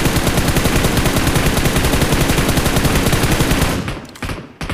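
Rapid automatic gunfire sprays continuously at a car in PUBG, a loud, dense stream of shots that cuts off near the end, followed by a few scattered bursts.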